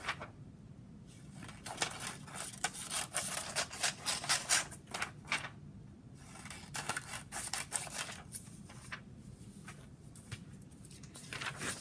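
Scissors cutting paper pages for an interactive biomes notebook: repeated crisp snips and rustles close by in uneven bursts with brief pauses, fairly quiet, no talk.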